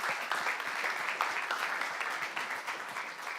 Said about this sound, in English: A big applause to Henk.